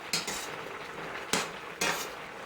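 A spoon stirs steamed cauliflower in a pan, with three distinct metallic scrapes and clinks over a low background hiss, close and moderately loud, with no speech.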